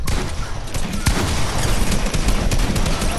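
Loud, dense gunfire in a multiplayer video game match, with a shotgun blast among the rapid overlapping shots and booms that fill the whole stretch.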